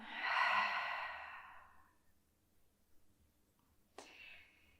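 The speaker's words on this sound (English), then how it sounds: "Exhale through the mouth." A slow, breathy exhale through the mouth during a beginner yoga session, close and soft, fading out over about two seconds, followed by quiet and a brief faint breath near the end.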